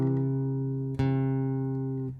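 A single guitar chord rings out sustained, then a fretted string is squeezed and pulled down so the pitch bends sharp and the chord turns sour before fading, played alone without talk.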